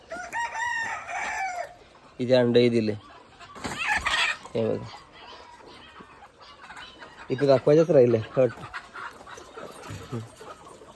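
Free-range village chickens on a desi poultry farm in Shahapur cluck repeatedly, with a rooster crowing in loud bursts, while someone talks over the birds throughout.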